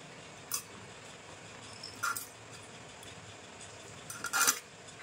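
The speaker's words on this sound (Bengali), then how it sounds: "দেখো মাছ দুটো আমি কেটে নেব এখন।" A knife works through two scaled goldfish on a board, giving three brief, sharp scraping clicks spaced apart over a quiet room hiss.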